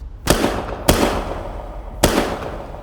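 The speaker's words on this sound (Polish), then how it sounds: "3 strzały. 3 stracone życia." Three sharp gunshots in an audio drama, spaced irregularly with the second following soon after the first and the third after a longer pause, each a loud close crack with a brief decaying tail.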